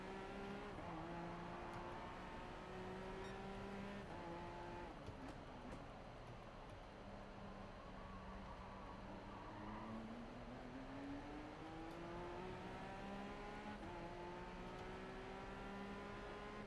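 Peugeot race car engine in the Gran Turismo Sport game at Tsukuba circuit, holding a steady droning whine that rises and falls in pitch through gear changes, with another car's engine layered underneath throughout.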